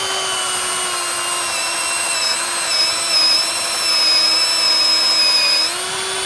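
Titanium-coated brad point bit in a drill, set without hammer action, boring through four inches of timber: a steady, close whining motor drone with a sustained tone that rises slightly near the end, heard alone.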